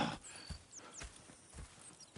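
Horses in the Red Dead Redemption 2 video game clop their hooves in a slow, soft rhythm of separate thuds, with faint whinnying high above, all quiet and somewhat distant.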